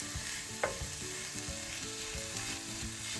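Sliced vegetables sauté in a pan with a continuous, fairly quiet sizzle and crackle, broken by a few soft stirring knocks and a light clink; no voices.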